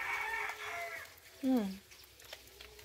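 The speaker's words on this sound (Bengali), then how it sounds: "মোরগ ডাকছে, কাকার কাক।" A rooster crows once, brief and somewhat distant, at a rural home during rain, with a voice speaking just before it.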